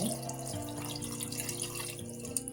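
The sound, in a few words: water being poured into a pressure cooker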